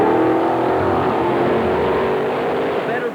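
Truck engines rev at an indoor truck show, a loud sustained roar with throaty engine tones that hold steady and then ease slightly near the end.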